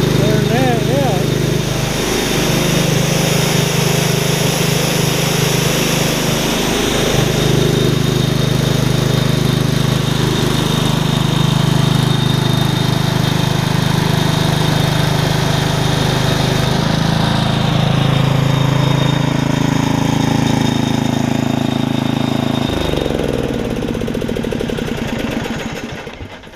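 A Mi-T-M gas pressure washer engine runs close and loud with a steady rough drone, shifting pitch and load partway through before winding down near the end, while a person talks over it.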